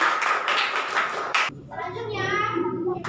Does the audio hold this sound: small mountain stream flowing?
no